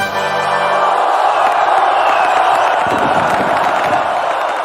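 A large crowd cheering and whooping, a dense, loud, continuous roar of many voices that swells and holds steady throughout.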